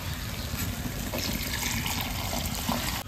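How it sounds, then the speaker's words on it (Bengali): Water being poured into a pan of spiced dahi bhindi masala, okra in a yogurt gravy: a steady, close, gushing trickle that runs continuously for a few seconds without speech. "মশলা ভালো করে কষানো হয়ে গেছে, জল দিয়ে দেবো।"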